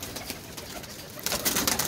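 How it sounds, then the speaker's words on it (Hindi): Ferozpuri pigeons coo close by in a loft in the early morning, with soft low cooing that grows louder and fuller toward the end. "ये जी फिरोजपुरी कबूतर है"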